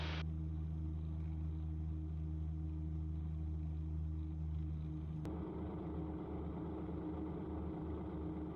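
Steady engine drone from a light aircraft prototype taxiing on the ground at about 17 knots, a constant low hum that shifts to a rougher, busier tone partway through, fairly quiet and without speech.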